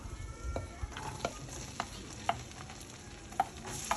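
Onion going into a pan with butter for a breakfast soup, stirred with a utensil: a soft background sizzle broken by sharp scraping and clinking strokes every half second or so, close and fairly quiet, with no voices.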